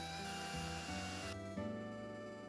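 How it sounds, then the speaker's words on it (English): A battery drill runs steadily while boring holes into a clay figure, giving a continuous whirring motor drone with shifting pitch and no pauses, close and fairly loud. "I will then drill some more holes to make wire-sized wing holes."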